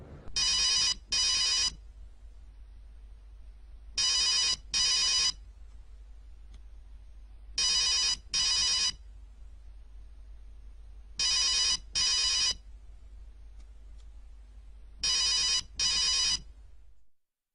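A phone rings again and again with no one answering. There are five evenly spaced double rings, loud and clear over a low steady hum, with silence between them and no talking.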